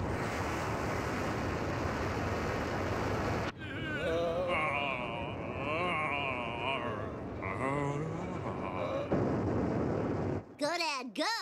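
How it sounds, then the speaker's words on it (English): A cartoon rocket blasts off in a loud continuous roar that cuts abruptly into quieter tones and voices, followed by a brief final whooshing burst. "Make rocket go now."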